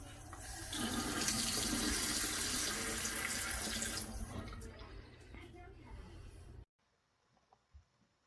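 Water streams steadily from a Moen Brantford smart pulldown kitchen faucet into a sink for several seconds, then shuts off abruptly, leaving near silence with a few faint drips.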